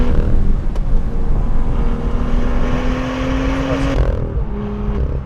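BMW M2 engine under load on a road loop, a steady loud drone with a rising engine tone that drops sharply near the end as the car shifts or lifts, then settles again.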